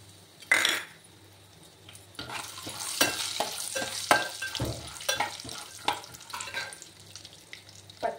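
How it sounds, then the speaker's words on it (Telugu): Peanuts hit hot oil in a pan on a gas stove while a coconut chutney is being made. A sharp sizzling burst is followed by steady frying crackle and repeated stirring clatter, close and moderately loud. "Oil heat ఎక్కిందండి. ఇప్పుడు పల్లీలు వేసుకుందాం."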